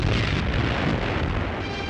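A Panzerfaust rocket fired by German grenadiers strikes an American Sherman tank in 1944 wartime newsreel footage: a dense, continuous roaring blast of explosive noise, loud and unbroken throughout.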